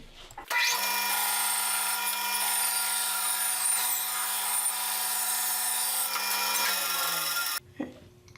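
A bandsaw rips a wood board into a quarter sawn piece, a steady loud whine and rasp of the blade through the wood lasting about seven seconds, then stopping abruptly as the cut ends.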